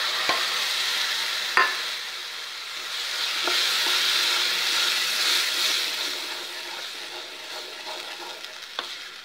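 Tomato puree sizzling as it goes into hot masala in a pan, a steady close hiss with a few sharp utensil taps and stirring sounds, gradually softening.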